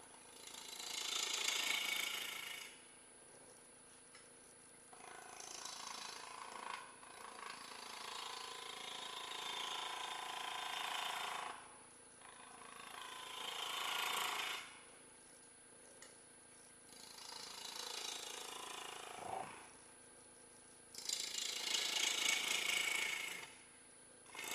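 Wooden cabriole leg being carved with a bowl gouge on a lathe, giving repeated long passes of hissing, scraping cuts that swell and fade against a steady motor hum; close, no talk.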